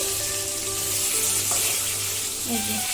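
Hilsa fish pieces fry lightly in oil in a pan, giving a continuous close hiss and sizzle with faint background tones and no clear talk.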